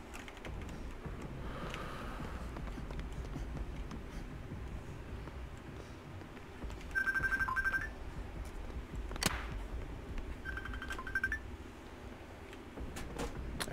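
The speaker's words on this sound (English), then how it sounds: "Every time I make a video, the phone rings." A telephone rings twice, each ring a short electronic trill, over steady clicking from a computer keyboard being typed on nearby.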